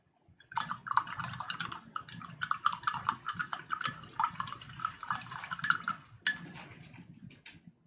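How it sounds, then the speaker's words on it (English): Paintbrush swished and tapped in a water jar while rinsing off acrylic paint, a close run of quick splashy clinks and sloshes in uneven bursts, fairly quiet. "Give the old brush a rinse."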